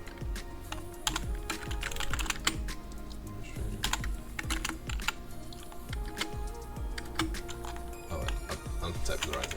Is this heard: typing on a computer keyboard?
yes